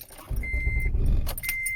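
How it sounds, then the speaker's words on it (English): An Acura TL's engine cranks briefly and cuts out, its starter whirring in a short burst close by, with light key jingling and faint electronic chimes around it. "You see it cranks, but it cuts out."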